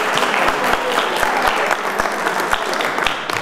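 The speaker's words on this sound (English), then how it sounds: "They deserve a round of applause." Audience applause for a volunteer ambulance corps at a citizens preparedness meeting, a steady room-filling clatter of many hands clapping with scattered sharper claps, continuous for several seconds.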